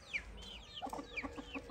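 Aseel hen with newly hatched chicks, giving soft low clucks mixed with thin high peeping calls, faint and close in a quiet farm setting, with no talking.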